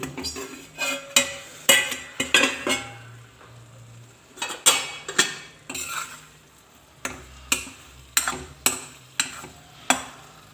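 Metal clanks and scrapes of a pot lid and utensil come from a pan of stuffed okra cooking on the stove, a scattered series of close, sharp knocks with faint sizzling in the quieter gaps.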